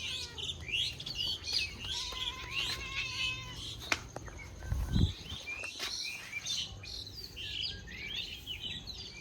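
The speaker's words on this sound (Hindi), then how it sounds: "और उधर बिल्ली आ गई, मैं बिल्ली को दिखाता हूँ।" A cat meows near an indoor spot at home while birds chirp and tweet throughout in the background, with a short, louder low thump or rustle partway through; no one speaks.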